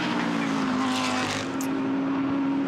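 A GT race car at Brands Hatch comes through the final corner during Blancpain GT Sprint Series practice, its engine droning steadily and fairly loud, with a commentator's voice faintly underneath.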